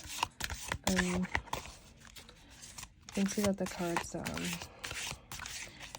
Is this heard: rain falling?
no